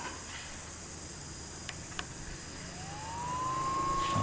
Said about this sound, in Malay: Tu bunyi kipas dia.